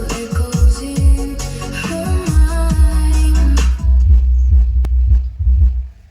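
A car audio system with active full-range speakers and subwoofer plays music, with deep thumping bass pulses under melodic tones, loud and close, the sound thinning out near the end.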